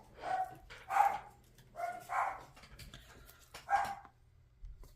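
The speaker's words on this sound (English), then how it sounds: "And the dogs are barking at something, but I have no idea what." Dogs bark in short bursts at a moderate distance, four or five sharp woofs spaced irregularly with quiet gaps between.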